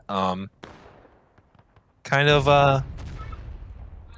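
Friendly artillery fire in a Civil War battle game: a few sharp cannon reports crack out with short decays, spaced across a few seconds, between bursts of voices.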